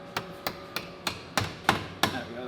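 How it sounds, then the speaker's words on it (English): A hammer strikes a small piece of metal on an Aston Martin during an oil change, seven sharp, close, evenly spaced metallic blows, the later ones heavier, with no talking. "Everything in life can be solved with a hammer"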